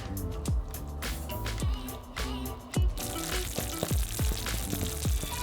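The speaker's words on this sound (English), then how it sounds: "I am going to let the turkey meat and sauce simmer for a little bit" Turkey meat and sauce simmer in a pan on low heat with a gentle continuous bubbling, while repeated low thumps and soft knocks from the kitchen sound close by throughout.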